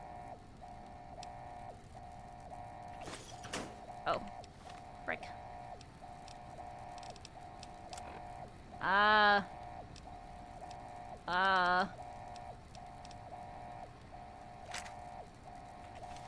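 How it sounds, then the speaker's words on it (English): An alarm system blares inside the video game Fallout New Vegas, heard as two short warbling siren bursts a couple of seconds apart over a steady background hum, with a player talking briefly between them. "I don't like alarm systems. They give me anxiety."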